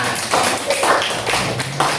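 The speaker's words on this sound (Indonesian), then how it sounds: "kasih tepuk tangan" A small classroom audience claps briefly in uneven bursts, a short patter of hands over about two seconds in a teaching session.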